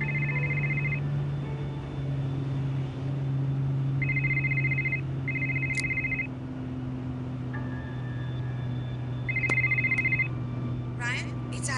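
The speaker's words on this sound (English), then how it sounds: "Can you grab the phone for me?" Video game telephone from Paranormal State: Poison Spring ringing in repeated short electronic bursts with pauses between them, over a steady low hum, with a voice speaking briefly.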